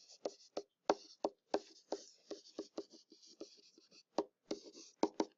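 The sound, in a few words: writing out an equation by hand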